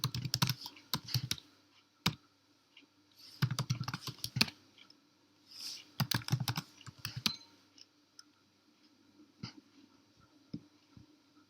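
Computer keyboard typing a terminal command, heard in quick bursts of close, crisp key clicks separated by short pauses, with a few scattered single taps near the end.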